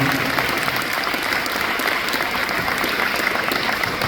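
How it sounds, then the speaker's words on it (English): An audience applauds a school band at a winter holiday concert, with dense, loud, sustained clapping mixed with crowd noise and no break. "let's give them another round of applause"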